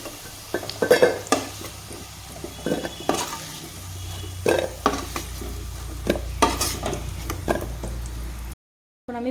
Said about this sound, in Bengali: পনিরটাকে ভেজে নিব একটু হালকা করে পনিরটাকে ভেজে নেব